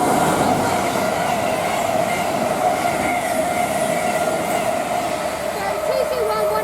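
A train pulls out of Rugby station on the West Coast Main Line, bound for Edinburgh. It makes a steady, loud rail rumble with a sustained tonal whine, heard close and unbroken throughout.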